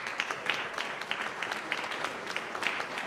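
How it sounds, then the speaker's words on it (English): Audience applause fills a chamber of commerce wine reception, a steady patter of many hands clapping at moderate, fairly soft level, with scattered sharper claps standing out. "So how about a hand of applause for Bob Palaima?"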